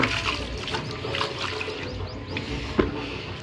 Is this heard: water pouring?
yes